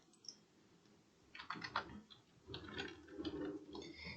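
Keys clatter in quick irregular bursts as code is typed on a computer keyboard to build an HTML and CSS calendar in Visual Studio Code, fairly close and at modest level with no talk.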